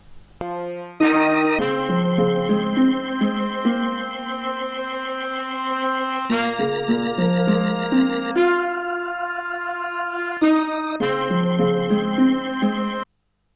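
Organ, trumpet and harp play a layered melodic phrase together, sustained chords under plucked and brassy lines, repeating in sections with short pauses.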